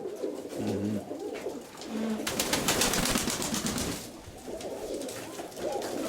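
Pigeons coo in repeated soft phrases, close by, with a flurry of wing or body noise in the middle and brief quiet talk nearby.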